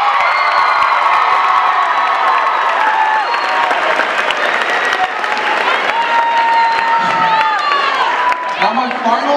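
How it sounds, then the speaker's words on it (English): An audience at a high school talent show bursts into loud, sustained applause with cheering, whoops and children shouting throughout, a dense crowd roar close by. "another big round of applause for our winners"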